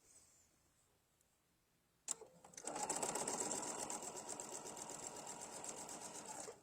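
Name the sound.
sewing machine stitching quilt block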